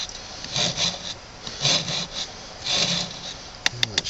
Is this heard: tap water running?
no